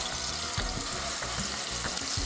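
Wet masala paste of onion, garlic and coriander sautéing in plenty of oil, a dense steady sizzle with soft stirring thumps, close and fairly loud.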